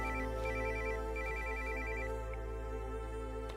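A mobile phone ringtone for an incoming call sounds in a repeating electronic melody of short tone bursts, close and steady, with no one speaking over it.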